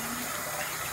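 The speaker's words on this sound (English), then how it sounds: "I need to wash my hands." A tap pours water for hand washing in a kitchen, a brief, loud and close steady rush with no voices.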